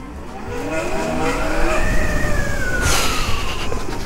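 A Zero FXE electric motorcycle pulls away under hard acceleration, its motor giving off a rising, whining tone that climbs in pitch over a rough road-noise rumble, close and fairly loud with no talking.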